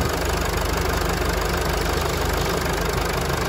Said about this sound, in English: This diesel has a very unique sound